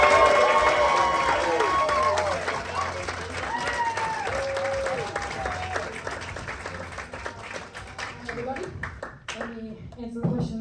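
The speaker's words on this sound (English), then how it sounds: "So please prove that you're serious about your important clapping duties" Audience at a stand-up comedy show at Arcade Comedy Theater applauds and cheers to welcome a comic, a loud sustained crowd clapping that fades toward the end, with an amplified host's voice over it.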